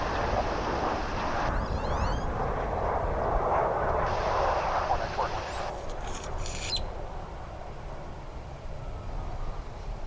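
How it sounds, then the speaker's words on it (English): An American Airlines passenger jet lands at DFW Airport, a broad engine roar that builds and peaks, then trails off, with a person speaking over it and birds chirping nearby. "That's American Flight 2609 coming in from"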